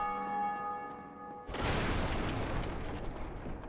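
A bell rings in the video game Dark Souls Remastered, first as a sustained, resonant tone, then swallowed by a loud, broad rumbling wash that carries on to the end.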